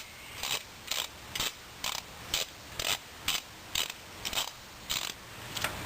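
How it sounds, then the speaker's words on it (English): A wrench ratchets on the knock sensor bolt of a 2001 Subaru, producing a steady train of evenly spaced, fairly faint clicks, about two per second, with no talking. "Get the wrench on it somehow."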